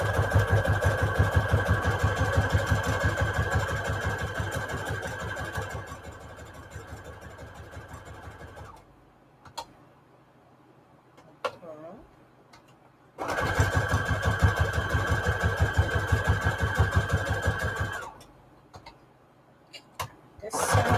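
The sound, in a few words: sewing machine zigzag stitching around fabric tag edges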